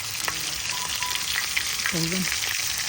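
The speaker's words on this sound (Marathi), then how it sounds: "मस्त की आता कोलब्या फ्राय करून घेऊ आपण" Small prawns (kolambi) frying with garlic in a pan give a steady, close hiss of sizzling oil, with a few light stirring knocks and a brief tonal squeak partway through.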